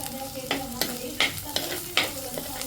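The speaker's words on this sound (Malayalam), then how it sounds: "പച്ചമുളക് ഇട്ടിട്ട് വഴറ്റണം കേട്ടോ." Green chilies sautéing in a pan for a fish curry: soft background sizzle broken by regular scraping strokes of a spatula about twice a second, close and fairly quiet, with no voices.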